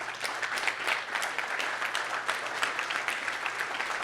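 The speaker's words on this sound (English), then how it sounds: "Round of applause for this group." A conference audience at BSidesPGH applauds the organizing team, with steady, moderately dense clapping from a room of attendees that holds an even level for several seconds.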